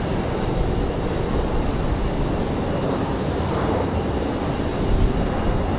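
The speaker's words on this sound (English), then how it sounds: "Looks like we've got an A321 out towards the end of the runway right now, getting ready to head back to Charlotte" An Airbus A321 airliner sits near the end of the runway at Raleigh-Durham airport, its engines producing a steady distant broadband rumble and whoosh that holds constant throughout, with no voices over it.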